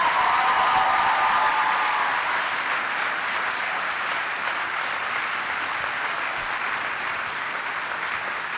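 Loud, sustained applause from a large commencement audience, thousands of hands merging into a thick, continuous roar that starts at full strength and tapers only gently over nearly nine seconds.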